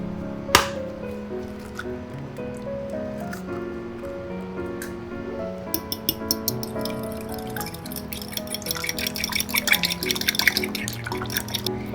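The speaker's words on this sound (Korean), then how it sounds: "이제 볼에 계란 2개를 깨서 잘 풀어주세요." A sharp crack as eggs break into a bowl, followed later by a rapid run of light clicking and tapping as the two eggs are beaten, all over a steady musical backdrop.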